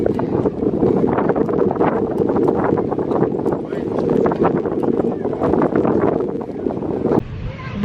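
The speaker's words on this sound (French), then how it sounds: "Je sais pas si vous m'entendez avec le vent." Strong seaside wind at Gravelines buffets the microphone in a constant rough roar, with a person speaking underneath the gusts and a faint water-like wash behind.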